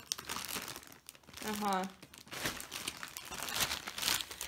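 Plastic surprise bag from an Avon cosmetics order crinkling and rustling as it is handled and opened, with someone speaking briefly over the close, dry crackle.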